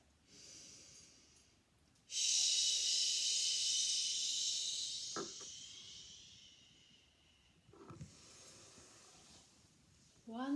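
Forceful rhythmic breathing from a yoga breathing exercise: a long, loud, hissing exhalation, then quieter breaths with short sharp nasal snorts, fairly close and with no speech over it.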